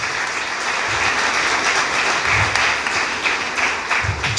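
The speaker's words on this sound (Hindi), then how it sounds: "एक बार जोर से ताली बजाएं" Audience applause at a religious gathering, sustained loud clapping that stays dense and even throughout with no talk over it.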